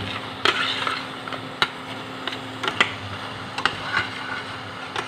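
Tomato paste cooks in oil in a pan while a spoon stirs it, giving a steady soft sizzle broken by scattered clicks and scrapes.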